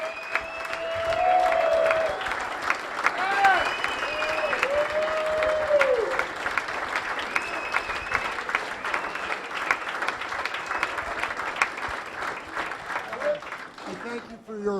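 Sustained audience applause fills a hall during an athletic Hall of Fame induction ceremony, a dense, steady wash of clapping with a few voices and cheers mixed in that holds from start to finish.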